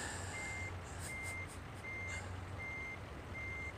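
Reversing beeps from a Kenworth truck in American Truck Simulator, a steady series of evenly spaced electronic tones sounding over a low engine idle and rumble, with no talk.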